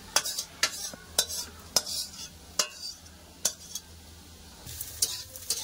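Kohlrabi frying in a pan while being stirred, with a steady low sizzle under a series of sharp utensil scrapes and clacks that come every half second or so, close and fairly quiet.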